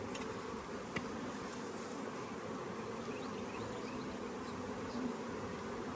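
Honey bees buzz steadily in an open hive, a dense close hum that holds level and unbroken throughout.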